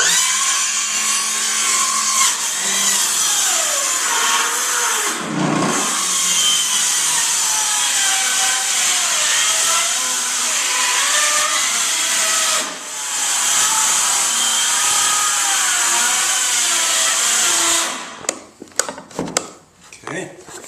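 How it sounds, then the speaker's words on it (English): Cordless circular saw cutting through wood for a barn door build, a loud sustained whining cut lasting most of the clip with brief dips in pitch, ending in scattered clunks and handling noise. "I've got my cordless circular saw here, which I feel hopefully is fully charged."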